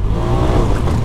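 A RZR buggy drifting on a motocross dirt track, its engine roaring loud and close with a steady throaty drone and slight pitch wobble, no voices over it.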